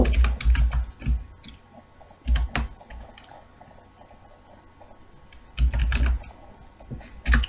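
Computer keyboard typing while writing C code, heard as short bursts of quick key clicks at the start, around the middle and near the end, with quieter gaps between, close and fairly soft.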